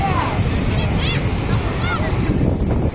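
Sea surf rolling onto the rocky shore of Rock Beach, Pondicherry, a steady close roar of wash with wind buffeting the microphone and faint chirps above it, continuous throughout with no talk.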